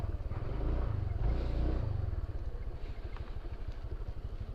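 Motorcycle engine at a parking area near Bolinao Falls in Pangasinan, a close, loud rev that settles into a rapid, pulsing idle, with no talk over it.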